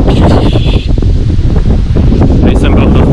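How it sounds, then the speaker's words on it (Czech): Strong wind buffets an action camera's microphone outdoors at a wedding in Moravia, a loud continuous rumbling roar with gusty swells throughout. "Slyšíš ten vítr?"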